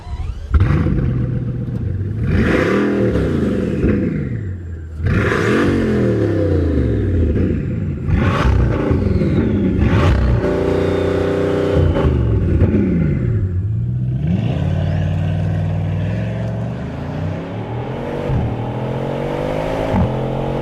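A Bugatti engine breathing through four turbochargers revs repeatedly, loud and close, with deep rumbling swells that climb and fall in pitch over about twenty seconds, punctuated by clattering and whooshing bursts between pulls.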